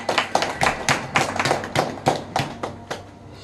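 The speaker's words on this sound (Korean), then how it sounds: "박수 부탁합니다." Scattered, fairly slow claps from a small audience at a library lecture on poetry and the independence movement, a dozen or so distinct sharp hits spaced unevenly and fading slightly toward the end, with no talking.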